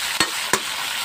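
String beans frying in a pan are stirred, giving a bright, close sizzle broken by two quick scraping strokes about a third of a second apart.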